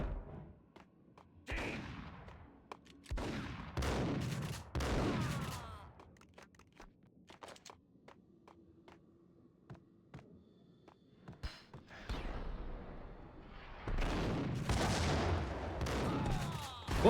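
Shotgun blasts in the video game Max Payne: several loud, sharp bursts spaced a second or two apart, with quieter gaps of small clicks and movement between them.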